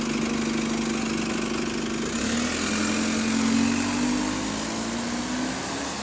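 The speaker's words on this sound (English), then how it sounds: "That sounds like the engine's starting to get better or something." A bus engine idles with a steady low rumble, revving slightly partway through and settling back, with no voices.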